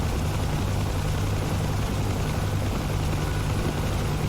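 Steady, continuous thump of a Huey helicopter rotor and turbine in the DCS flight simulator over the Persian Gulf, loud and unbroken with a low rhythmic beat throughout.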